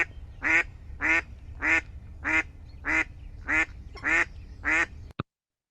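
Female mallard duck quacking loud and raspy, eight evenly spaced harsh calls in a steady rhythm, close and clear over a faint low background hum.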